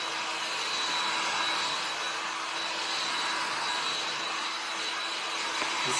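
A heat tool blows hot air steadily over foam strips for a craft flower centerpiece, giving a continuous close broadband whoosh with no breaks and no talk.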